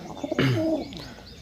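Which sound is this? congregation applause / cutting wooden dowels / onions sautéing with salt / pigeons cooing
pigeons cooing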